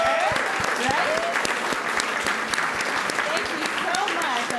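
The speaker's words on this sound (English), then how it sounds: "let's give them a big round of applause for being here" A conference audience at an agency leaders summit gives panelists a steady, dense round of clapping, close and loud throughout, with individual claps standing out and a voice faintly heard under it.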